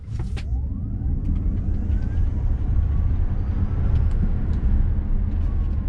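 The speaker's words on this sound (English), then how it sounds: "The acceleration in unbridled mode is absolutely out of this world." Ford Mach E GT Performance Edition electric car accelerating hard in unbridled mode, a rising electric motor whine over heavy low road and wind rumble, loud and continuous with no voices.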